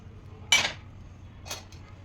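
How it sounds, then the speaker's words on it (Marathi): Two metallic clinks of a spoon against a pan while spices, asafoetida and turmeric, are mixed for chilli pickle, the first louder, over quiet background. "हे चांगलं मिक्स करून घ्यायचं."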